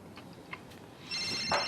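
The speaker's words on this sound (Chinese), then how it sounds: "电话" A telephone rings partway through, its bright electronic ringtone rising out of a quiet room and continuing to the end, with no talking over it.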